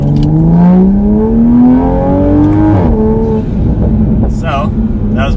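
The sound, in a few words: tuned Toyota Supra A90 accelerating at full throttle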